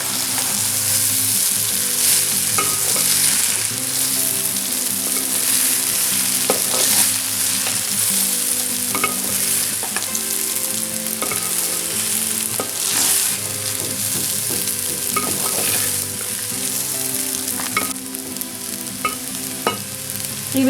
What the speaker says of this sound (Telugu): ఇప్పుడు జాగ్రత్తగా రైస్ అంతా మిక్స్ చేసుకోవాలి